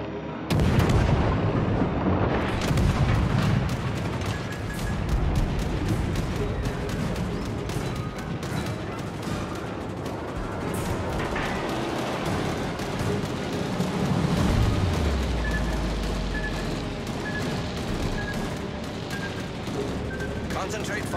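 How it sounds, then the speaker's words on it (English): Naval artillery booms and rolls continuously in the World of Warships: Legends video game, heavy gunfire and explosions layered under game voice callouts, loud and dense throughout. "All stations requesting fire on the designated target."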